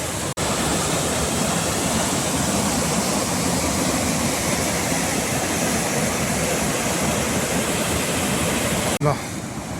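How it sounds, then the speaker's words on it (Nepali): A mountain waterfall or stream beside a trekking trail pours in a dense, unbroken roar, close and loud for the whole stretch, with a brief knock near the start and end. "यो बाटोको झरना भनौँ कि खोला भनौँ यो अत्यन्त रमाइलो रहेछ।"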